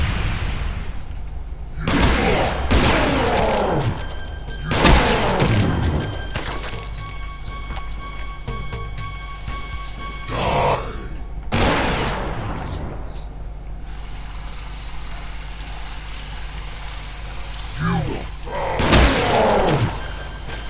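Gunfire in Extermination Day, a tactical survival horror video game: several loud, sharp bursts at irregular intervals over a steady, noisy game background.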